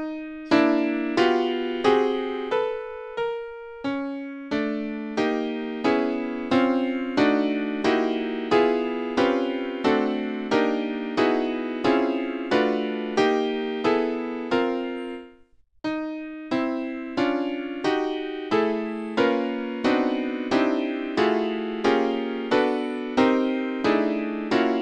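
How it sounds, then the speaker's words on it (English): MIDI playback of a composition titled Free Associate 2 runs as a steady stream of evenly spaced, plucked-sounding synthetic notes in shifting chord patterns, with one brief pause near the middle, clean and alone. "play the MIDI animation of Free Associate 2"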